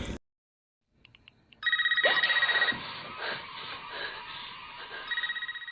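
A telephone rings in bursts of warbling trills that repeat after short gaps amid film-scene background noise.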